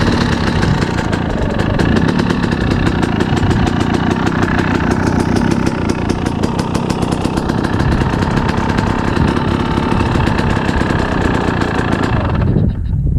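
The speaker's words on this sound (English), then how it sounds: "I'm just going to show a cold start, so I'm going to put the choke on, the fuel's on." A motorcycle engine fitted with a SmartCarb carburetor runs loud and close from a cold start with the choke on, a steady rapid idle throughout that cuts off near the end.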